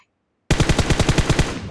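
Rapid automatic gunfire from PUBG Mobile, a single loud sustained burst of evenly spaced shots starting abruptly after a short silence, close and alone without talk.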